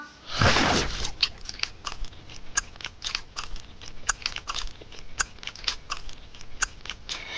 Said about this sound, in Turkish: Evet şimdi krebimi tadıyorum.